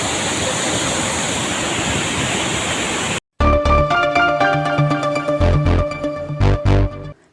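Floodwater roars past after heavy rains in Siddipet district, a loud, steady rush for about three seconds before it cuts off abruptly and music takes over.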